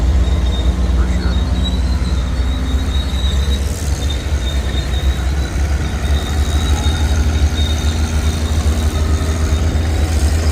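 A Murphy engine powering a big shovel at the National Pike Steam Show in Brownsville, Pennsylvania, runs with a steady, loud low rumble and a faint high whine, continuous throughout, with crowd noise around.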